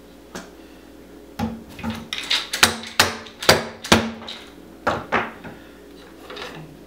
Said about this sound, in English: I'm going to use the hammer from my hammer project as well.